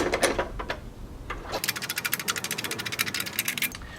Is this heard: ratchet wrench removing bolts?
yes